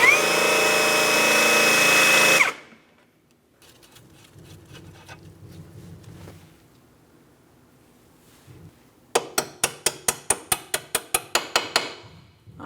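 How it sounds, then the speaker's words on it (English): About a dozen sharp metallic taps of a hammer on a punch against a bolt in quick succession, close by, following a brief burst of loud noise and a stretch of quiet handling sounds. "I'll just use my hammer and a punch."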